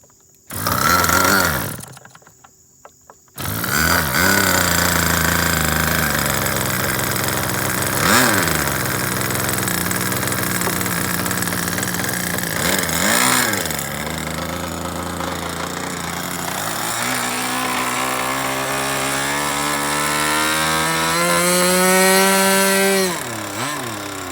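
A SH GF6 engine on an aircraft cranks after a brief pause, catches and runs loud and steady, its pitch climbing toward the end as it revs up for takeoff.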